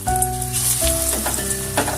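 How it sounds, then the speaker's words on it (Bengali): Cauliflower fritters hit well-heated white oil in a pan, giving a loud, close, continuous sizzle over a short moment with no talk. "সাদা তেল ভালো করে গরম করে নিয়েছি এবারে ফুলকপির বড়াগুলো সব দিয়ে দেবো"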